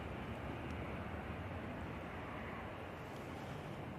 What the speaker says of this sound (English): Next arrival, Ryanair coming back in from Limoges